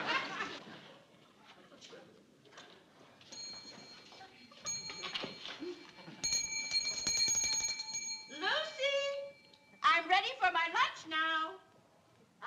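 A handbell rings repeatedly with bright, sustained metallic tones in a sitcom room scene, breaking out in bursts in the middle of the clip while people talk and move around it.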